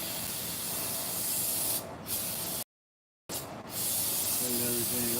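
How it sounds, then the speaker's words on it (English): Part cleaner is sprayed from an aerosol can in two sharp hissing bursts, close and fairly loud, with a short silent gap between them. "So now I get the part cleaner again. And we're gonna spray it down one more time."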